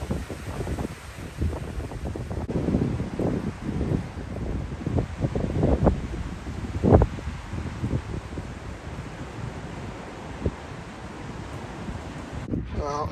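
Gusty wind buffets a microphone on a sailboat on a cold, showery day, rumbling in uneven surges with rustling and faint water sounds beneath.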